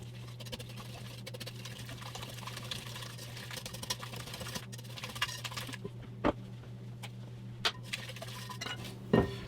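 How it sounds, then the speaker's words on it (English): A whisk beats wet ingredients for keto pumpkin bread in a bowl, making quiet, quick repeated clinks and scrapes over a low steady hum, with a few sharper taps near the end. "now we're going to go ahead and whisk that all together"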